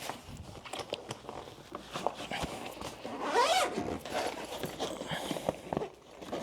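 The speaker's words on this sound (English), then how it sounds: "before I zip it up" A zipper is pulled closed on a photobooth case, a faint raspy zip in the middle amid soft handling and rustling, quiet and close.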